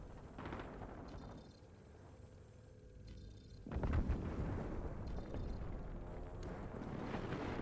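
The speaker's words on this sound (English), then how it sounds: "Hostile airstrike incoming." Airstrike explosions in the Call of Duty Warzone video game, a deep booming blast that swells up suddenly midway and rumbles on loudly, with thinner game-effect sounds and beeps layered over the steady noise before it.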